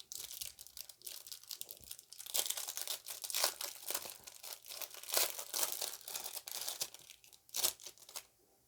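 Yu-Gi-Oh! promo card packs from a 25th anniversary Legendary Collection are torn open up close, with repeated crisp foil tearing and crinkling in quick irregular bursts that fade out at the end.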